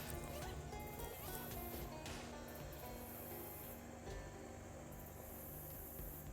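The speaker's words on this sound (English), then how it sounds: "I've actually walked to a huge swarm of gnats and flies, and they're buzzing super loud" A huge swarm of gnats and flies buzzes in the video game Shadows Over Loathing, a faint, continuous hissing drone that holds steady throughout.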